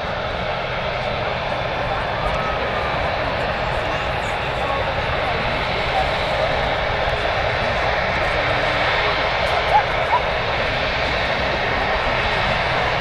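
Airbus A380 jet engines at Manchester Airport make a steady, broad roar that holds throughout without fading, with faint voices underneath.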